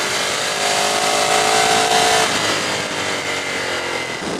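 A Ducati 848 Streetfighter motorcycle runs hard at speed, a dense, loud engine roar mixed with rushing wind that holds steady for a few seconds with a slight easing toward the end.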